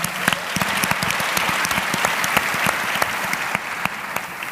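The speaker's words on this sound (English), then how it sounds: "give Reverend Sharpton a round of applause." Crowd at a national town hall on voting rights applauds Reverend Sharpton, a full, continuous roar of clapping with sharper nearby claps standing out, sustained at an even level throughout.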